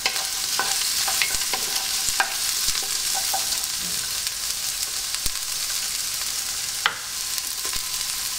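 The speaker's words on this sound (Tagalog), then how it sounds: "Pagsasama-samahin natin igisa, itong bawang, yung sibuyas at yung luya" Garlic, yellow onion and ginger sautéing in a hot pan for chicken arroz caldo, with a steady close sizzle throughout and a few light clinks and scrapes of a utensil stirring.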